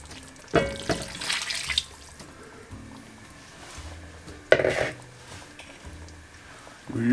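Boiling water goes into a pot of Jamaican brown stew beef in two short splashy pours separated by a quieter stretch of faint kitchen noise, with a third pour starting at the end.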